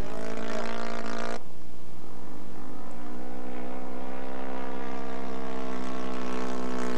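Ultimate aerobatic propeller airplane snapping through a snap roll, the loud engine drone shifting sharply in pitch and tone early on, then settling into a steady roar with no voices.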